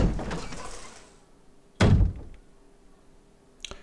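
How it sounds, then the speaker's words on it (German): A heavy door in Resident Evil HD Remastered swings open with one loud, close thunk near the middle, trailing off into a quiet room tone and a faint click at the end; no one talks over it. "Und eine Tür, die wir öffnen können."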